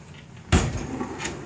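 A kitchen drawer slides open in a vacation rental kitchen with a single close, sudden scrape and knock, followed by a faint rattle and a soft settling sound.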